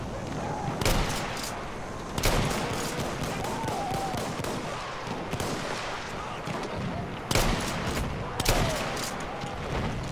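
Gunfire in the World War I shooter Battlefield 1, with a Hellriegel submachine gun in use: bursts of shots spaced several seconds apart over constant distant battle noise and rumble.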